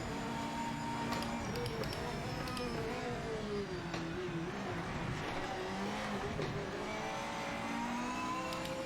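GT3 race car engine in the Project Motor Racing GT3 Club Cup racing game, a steady droning whine rising and falling through gear changes, continuous and fairly quiet with no talk.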